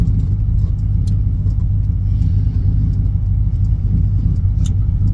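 A supercharged 600 HP Mazda Miata drives along with a loud, steady low engine drone and rumble, holding an even note throughout with no clear gear changes.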